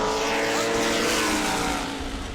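Stock cars roar around an oval track during a family fun night race at New Smyrna, a loud continuous engine drone with layered harmonics that stays close and steady, easing slightly toward the end.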